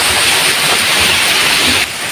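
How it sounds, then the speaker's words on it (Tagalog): Heavy rain falls steadily as a loud, dense hiss, continuous and close, dropping slightly in level just before the end. "Malakas na naman yung ulan."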